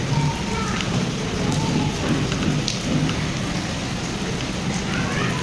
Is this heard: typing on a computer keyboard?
no